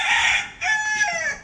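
A rooster crows once, close and loud, its harsh drawn-out call standing alone with no voices.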